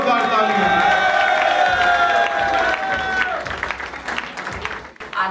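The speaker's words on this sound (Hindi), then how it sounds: "जोरदार तालियां।" Audience applause at an event honoring a man twelve years free of addiction, a loud steady mass of clapping with whoops and cheers over a musical tone, thinning and fading toward the end.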